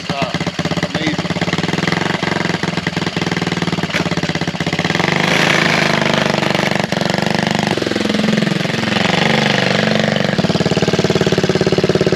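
A 1969 Honda Z50 mini motorcycle engine runs steadily at close range with a rapid, rattly putter. Its pitch rises and falls as the throttle is blipped later on.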